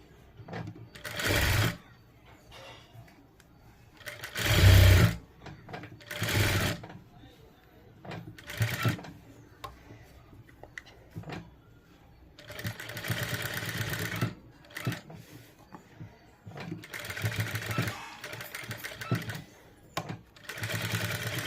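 A sewing machine stitches a rounded sleeve seam in close, loud runs of rapid mechanical whirring that stop and start, with someone talking in the pauses between runs.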